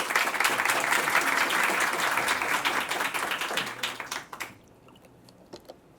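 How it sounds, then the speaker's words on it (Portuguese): A hall audience applauds a professor called up to present a case study on Laticínios Viçosa, with dense clapping that thins out and fades to scattered claps and near silence at the end. "Uma salva de palmas para ele"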